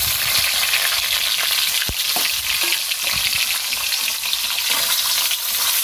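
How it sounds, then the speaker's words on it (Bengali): Hilsa fish fries in hot oil in a wok, a loud dense continuous sizzle up close with a few clinks and stirring sounds scattered through, no voices. "আমি এই কড়াইতে তেলের মধ্যে যে মাছগুলো আমার ছিল সেই"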